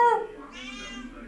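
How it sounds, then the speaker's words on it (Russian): One cat gives a single clear, drawn-out meow, fairly loud and close, with nothing else heard. "Мяу! Мяу! Мяу! Мяу!"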